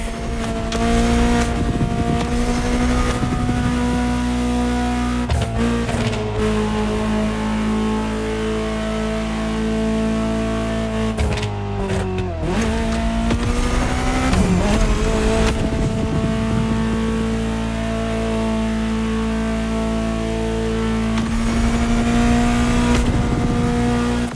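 A Ferrari supercar engine in The Crew Motorfest drones steadily and loud for the whole stretch, with a brief dip and swell in revs midway as the car drives on.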